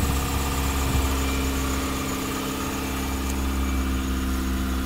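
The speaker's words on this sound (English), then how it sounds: "Let's go ahead and start it up." A 1991 Chevrolet Cavalier idles right after start-up, a steady, even engine hum with a low rumble that stays constant throughout, close by and without speech.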